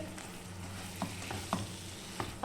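Butter melts and gently sizzles in a pan for ema datshi, with a low frying hiss and a few distinct stirring clinks and scrapes spaced about half a second apart, close and fairly quiet.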